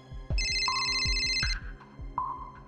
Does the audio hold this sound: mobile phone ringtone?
yes